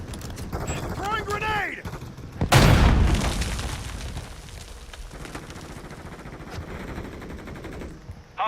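A grenade explosion in a video game bursts loudly after a short stretch of game voice and effects, and its boom trails off into a rumbling decay under scattered gunfire-like clatter.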